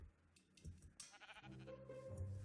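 Sheep bleating in Minecraft, a few short bleats rising over a busy game backdrop with other sound effects, fairly close and moderately loud, no talk.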